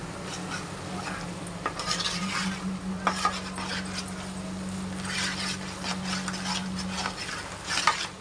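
Steady spoon stirring of chepala pulusu, a Telugu fish curry simmering in a pan, with a continuous scraping and sizzling bubble under it and a few louder scrapes along the pan bottom.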